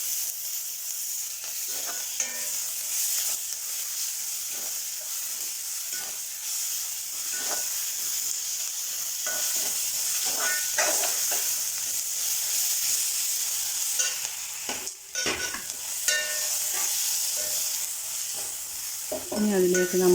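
Ginger and garlic paste sizzles and fries in a pan with continuous hissing and steam, broken by frequent stirring scrapes and clinks, close and steady throughout.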